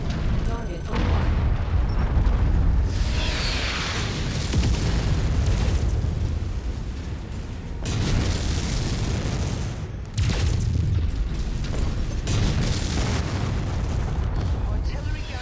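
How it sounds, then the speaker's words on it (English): Heavy explosions boom and rumble as an artillery garrison is destroyed in MechWarrior 5, with repeated loud blasts and gunfire over several seconds, a voice talking now and then. "Artillery garrison destroyed"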